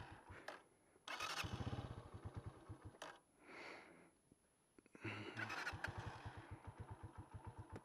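A Yamaha RX 100 motorcycle engine struggles to start in the mountains of Yemen: repeated cranking bursts that briefly catch into rough, pulsing idle, then die and crank again, close and loud.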